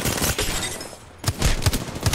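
Wingman pistol shots in Apex Legends crack out as a handful of loud, spaced single reports, one early and a quick run of four in the second half, over busy game ambience.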